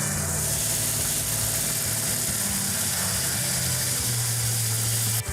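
1968 Dodge Charger R/T V8 idling after cam break-in, a loud, steady, rumbling idle with a mechanical clatter, close by and continuous with no talk.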